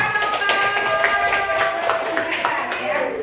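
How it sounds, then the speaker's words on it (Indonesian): Hands clap in a classroom during a coding lesson, a burst of sharp claps from a group running steadily for a few seconds, with children's voices faintly mixed in. "Ini tepuk tangan buat"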